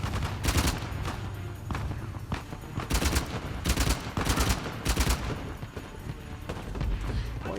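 Enemy gunfire in the video game Uncharted: The Lost Legacy: bursts of rapid shots and single cracks, some sharp and near, others more distant, repeating irregularly throughout over a steady low battle rumble.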